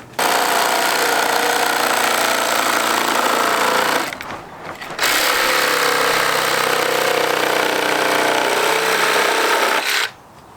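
A power tool cuts through a Honda Integra's car bumper, running loud and steady, dropping out briefly for about a second midway, then resuming until it stops near the end; no voices.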